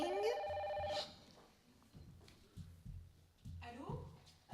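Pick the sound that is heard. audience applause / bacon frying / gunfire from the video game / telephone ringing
telephone ringing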